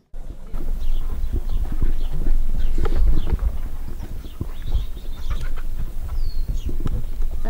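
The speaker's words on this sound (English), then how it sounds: "So this is my mare, though, that I rode and rode and rode." A 22-year-old mare walks outdoors on a farm, her hooves clip-clopping in a close, steady rhythm throughout, with faint bird calls scattered in the background.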